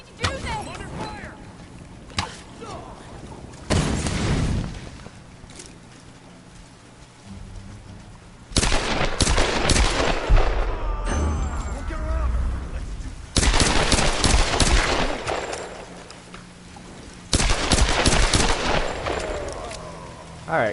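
Gunfire in Tomb Raider Definitive Edition erupts in several loud bursts of several seconds each, separated by quieter stretches with rain-like ambience and voices.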